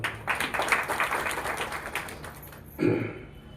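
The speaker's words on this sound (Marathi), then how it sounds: "सर्व पत्रकार बंधू आणि भगिनींना आपण शुभेच्छा देऊ टाळ्या वाजवून" An audience at a journalists' award ceremony claps in a brief patter of applause that tapers off, followed by a short thump near the end.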